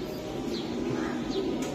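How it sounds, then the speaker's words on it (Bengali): A racing pipe pigeon coos softly and indistinctly against a steady hum of background noise, with faint chirps and a hint of distant voices. "এটা একটা পাইপ কবুতর, খুবই ভালো, দামি ব্লাডের কবুতর।"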